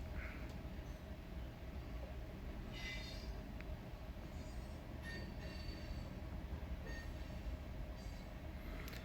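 A train rolls past about 500 feet from a house with a window air conditioner, producing a constant dense rumble with intermittent high wheel squeals and clatter, fairly distant and steady throughout.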